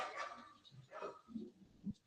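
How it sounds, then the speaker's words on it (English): A few faint dog barks and yips in the distance, scattered across a couple of seconds with quiet gaps between them. "Sorry if you hear my dogs barking in the background."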